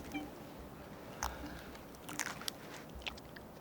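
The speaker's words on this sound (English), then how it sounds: "You hear that crunch?" A chameleon in the Namibian desert crunches a fog-basking beetle, producing a few short, crisp bites and crunches close by over quiet background.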